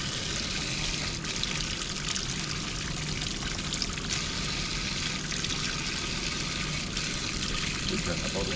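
Hot water runs from an outdoor tap on a Trooper camper, a steady broadband rush and splash that keeps going at even loudness for the whole stretch, close by and outdoors with no talk over it.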